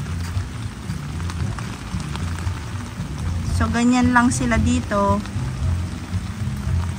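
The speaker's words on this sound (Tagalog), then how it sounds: "ngayon biglang uulan na napakalakas" Heavy rain pours down steadily outdoors on a potted succulent garden, a dense, constant hiss and patter that runs throughout, with someone speaking briefly over it near the middle.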